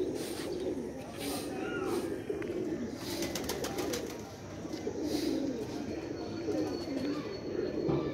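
Teddy pigeons coo in soft repeated low murmurs under a constant background hum, with a few faint higher chirps mixed in.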